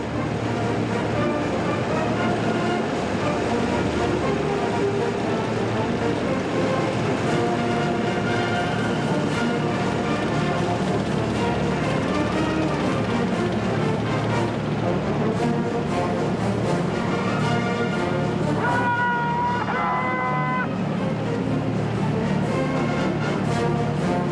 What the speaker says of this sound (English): 96A main battle tank formation.